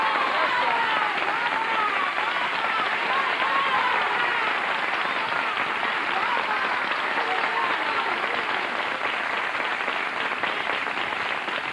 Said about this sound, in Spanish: Querido público, muchísimas gracias por estos aplausos.